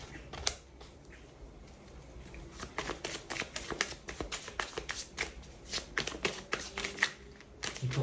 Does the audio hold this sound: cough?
no